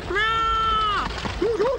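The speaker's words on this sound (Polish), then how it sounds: "To znowu ten kot w czerwonych butach." A cat gives a long, loud drawn-out meow, followed by a shorter wavering second call, close and clear over a faint background.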